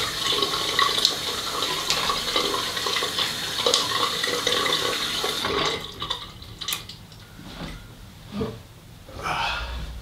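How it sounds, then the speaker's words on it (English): A bathroom tap runs steadily while a face is rinsed after a straight-razor shave, close splashing and water handling with a sniff or gasp, then the flow cuts off and is followed by scattered drips and small splashes. "Just rinse my face."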